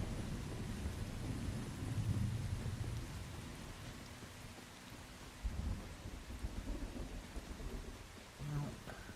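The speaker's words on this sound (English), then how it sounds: "It's pouring rain." Heavy rain pours steadily in the Once Human game world, with deep rumbles of thunder rolling through it. The downpour stays loud and constant across the stretch, and a low thunder swell comes near the end.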